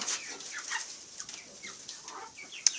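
Chickens cluck softly and steadily in a poultry coop with bantams including a golden German dwarf hen, a sharp short squawk near the end, at low level with no talking.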